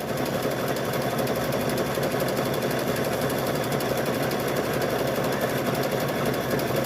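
A sewing machine stitches lengths of rope together for a wall hanging, producing a continuous, even motor hum with a rapid needle rhythm, steady and nearby with no pauses or talk.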